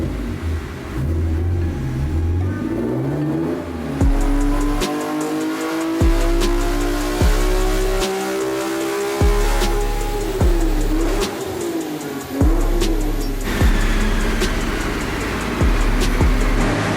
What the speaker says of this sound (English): we're gonna do some dyno pulls